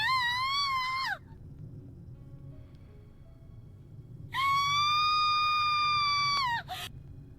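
A girl's high-pitched scream from the horror video game Corpse Party, heard twice: a shrill sustained cry, a pause with quiet background, then a longer second scream ending abruptly.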